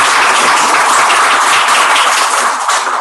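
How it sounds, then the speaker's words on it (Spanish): An audience at a lecture on infectious and tropical diseases in Venezuela applauds a doctor with loud, dense clapping that holds steady for about three seconds and eases off slightly at the end. No voices are heard. "Un aplauso, por favor, para el doctor."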